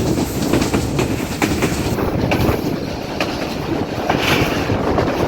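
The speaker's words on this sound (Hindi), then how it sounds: "संजानी रेलवे स्टेशन पर अप्रोच कर रही है।" A passenger express train rolls steadily along the rails approaching Sanjani railway station between Taxila and Rawalpindi, with rhythmic clickety-clack from the wheels, loud and close throughout, with a faint squeal near the end.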